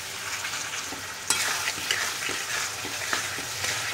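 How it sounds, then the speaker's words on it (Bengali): Vegetables sizzling steadily in a hot pan on raised heat, stirred repeatedly with clinks and scrapes of the utensil, close and continuous. "এবারে দেখো এটাকে নাড়াচাড়া নাড়াচাড়া করছি।"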